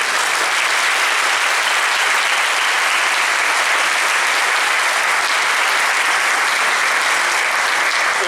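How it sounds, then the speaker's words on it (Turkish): Sustained, loud applause from an audience at a closing meeting marking the end of a training term, steady and dense for the whole stretch with no pauses. "Bir alkışta onlar için rica ediyorum."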